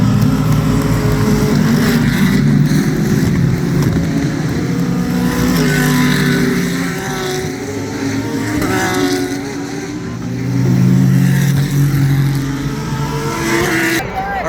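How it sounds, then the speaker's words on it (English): GT3 race cars at the 2023 IMSA Petit Le Mans accelerating hard out of turn 10, loud overlapping engine roars rising and falling as several cars pass in quick succession, with a voice talking over them. "we're going to start with the GT3s, and here we go as they launch off the corner in turn 10"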